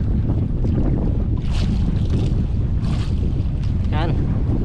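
Strong northeast monsoon wind (amihan) buffets a boat at sea, a steady roaring rush with wind noise on the microphone and water sloshing against the hull throughout.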